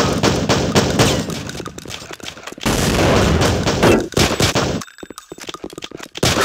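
Loud video game gunfire in dense bursts of rapid automatic shots, close and sustained, with brief pauses and a few sharper cracks near the end.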